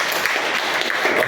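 Church congregation clapping together in worship, a dense, steady wash of many hands close by, with no voices standing out.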